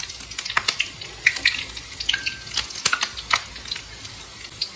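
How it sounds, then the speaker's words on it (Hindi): Amla and curry leaves frying in mustard oil, with crackling pops and brief sizzling bursts scattered over a quiet background, close and moderately loud. "इसको भी फ्राई होने देते हैं इसके साथ ही।"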